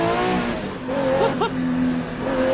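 Porsche rally car engine under throttle, a strained, rising and falling drone with a brief sharp chirp midway, loud and continuous.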